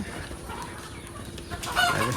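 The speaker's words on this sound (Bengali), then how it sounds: "এই মুরগি মারামারি করছে" Chickens on a poultry farm cluck and squawk in a scuffle over steady background noise, the squabbling growing louder toward the end.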